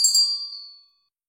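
A single bright notification bell chime rings out clearly on its own, then rings down and fades to silence within about a second.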